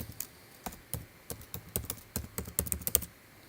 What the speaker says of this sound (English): I'm going to go back to Google, and I'm going to type in Young Living